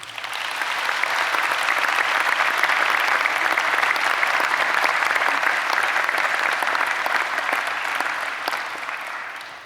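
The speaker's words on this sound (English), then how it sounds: "I think you all deserve a round of applause from the students." Graduating students at a UCLan ceremony applaud their supporters, a broad, even wash of many hands clapping that swells, holds loud and steady throughout, and eases slightly at the close.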